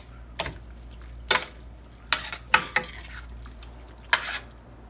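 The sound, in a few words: stirring cooked rice into stuffed pepper filling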